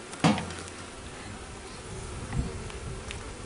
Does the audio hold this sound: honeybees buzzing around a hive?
yes